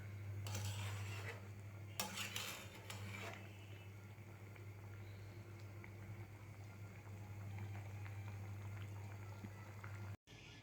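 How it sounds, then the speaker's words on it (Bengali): Curry bubbling steadily in a pot after cumin paste is stirred in, a soft continuous simmering hiss with a few light clinks of utensils early on, alone with no voices. "জিরা বাটা দিয়ে পাঁচ মিনিটের মতো একটু ফুটিয়ে নামিয়ে নেব"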